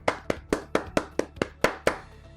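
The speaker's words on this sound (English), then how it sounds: "a round of applause for our esteemed panel of judges" Eight crisp hand claps in a steady rhythm, close and fairly loud, each one sharp with a short decay, as applause at an outdoor industry awards ceremony.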